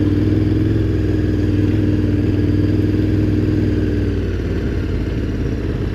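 A KTM 1290 Adventure R motorcycle engine chugs at low revs in first gear on an Australian bush trail, a loud close rumble with a steady clattering throb and no talk over it.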